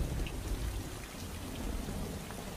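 Steady rain in the horror video game Revelations 2012, a dense, even hiss of falling drops at moderate level with no voices over it.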